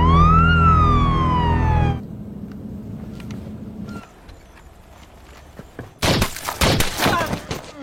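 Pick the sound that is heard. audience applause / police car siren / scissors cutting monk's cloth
police car siren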